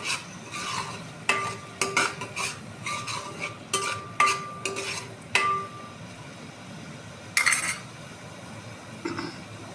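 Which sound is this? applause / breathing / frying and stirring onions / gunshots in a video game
frying and stirring onions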